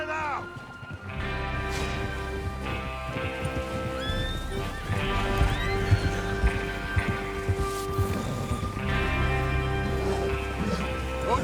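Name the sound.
horses riding, from video game Red Dead Redemption 2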